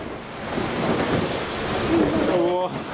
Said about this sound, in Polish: Fale zrobiły się coraz większe.